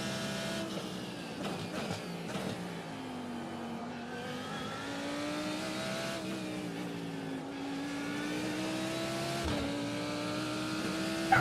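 A race car engine in an iRacing sim session, fixed-setup car, drones and revs continuously through gear changes, rising and dipping in pitch with occasional shifts, moderately loud and steady with no talking.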